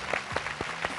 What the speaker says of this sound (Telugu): క్లాప్స్ కొట్టండి అమ్మా అందరూ